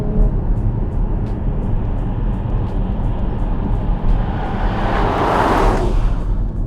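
Porsche 981 GT4 driving along a quiet, twisty country road, with a steady engine and road rumble that swells into a louder rush of noise near the end; no one speaks.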